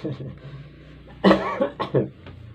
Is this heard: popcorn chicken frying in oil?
no